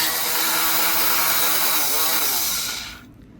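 A Granberg electric chainsaw sharpener grinds a chain tooth with a steady, high whirring buzz held at even loudness, then spins down and cuts off near the end.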